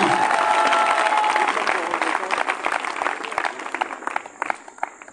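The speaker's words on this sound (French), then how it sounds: "acclame très fort Jésus-Christ" A church congregation cheering and applauding for Jesus Christ, loud sustained clapping with shouts that gradually thin out over a few seconds.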